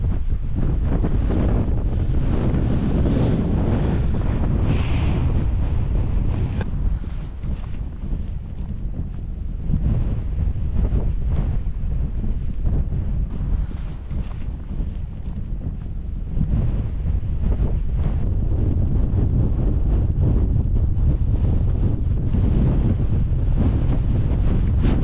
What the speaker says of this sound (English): Like I said, a bit windy.